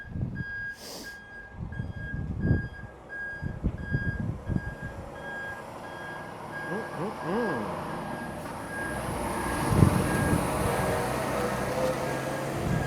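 A lorry loaded with parts for a house arrives with a steady reversing beep over a rumbling engine, the beeps evenly spaced and moderately loud as the vehicle nears, with a voice speaking over it.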